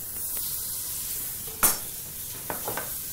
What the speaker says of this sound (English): into this pan we'll add the butter